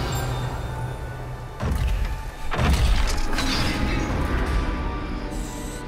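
A heavy gate slams shut in a dungeon in Hogwarts Legacy, a loud metallic boom followed by a second rumbling thud, with a low ambient drone continuing afterward.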